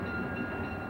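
An Amtrak passenger train arriving at a U.S. station gives a steady low rumble with a faint whine, constant and moderately distant, with no voices.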